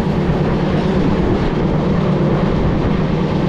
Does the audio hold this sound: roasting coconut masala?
no